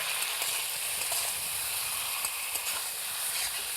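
Pre-fried ridge gourd and potato cook in ground spice paste for a katla fish curry, giving a continuous, even hiss and sizzle with faint stirring ticks and no voices.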